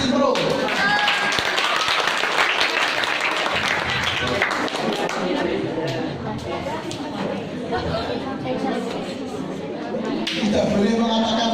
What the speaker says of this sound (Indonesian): Yang 5 orang berikan aplaus dari tim pro.